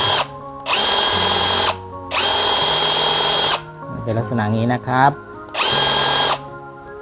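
A cordless drill fitted with a jigsaw attachment whirs in three loud bursts of about a second each. Someone speaks briefly between the second and third runs.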